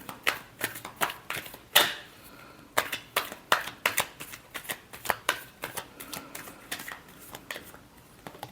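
Tarot cards being shuffled by hand in a rapid run of crisp, close riffling snaps and flicks, with no talking over them.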